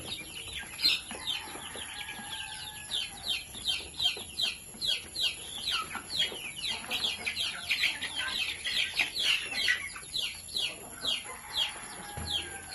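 Chickens on a Kerala poultry farm cluck and chirp in a steady, busy chorus of many birds close by, with overlapping calls throughout and no talking.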